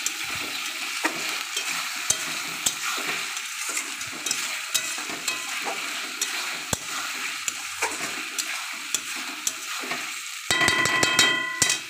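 Chopped tomatoes sizzle and fry in a pan for a Bengali pea curry, with frequent scraping clicks of a spoon stirring through a steady crackle and a sharp clatter near the end.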